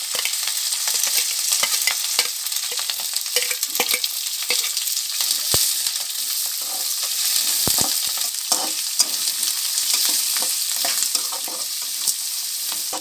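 Onions and curd stirred in a pan for poha upma: a bright, continuous close sizzle with frequent scraping and clicking from the spoon against the pan, steady and fairly loud throughout.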